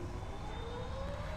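Boeing 777-300 jet engines spool up on a rolling takeoff in Microsoft Flight Simulator, a steady low roar with a faint rising whine, brief and without talk.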